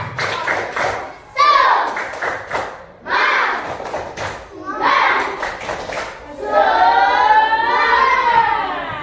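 Children in a primary school classroom chant and clap together in rhythmic bursts, loud and close, with a teacher's voice leading between the claps.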